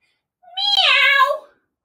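A person imitating a cat's meow during a kids' yoga session, one clear, drawn-out rising and falling meow, loud and close against silence.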